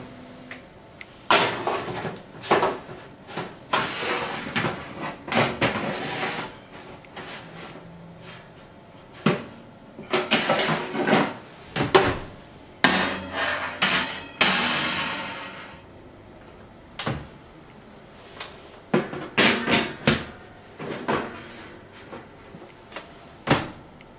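A kitchen oven door opened and closed repeatedly, with irregular knocks, clunks and metallic clatters, close by and without talking.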